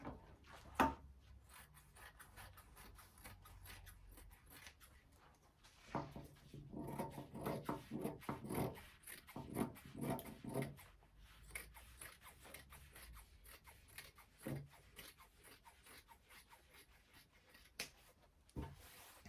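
Scissors snip through the lining fabric of an Ankara pinafore office skirt, giving quiet, close, irregular cuts and soft rustles with pauses between strokes; nobody speaks.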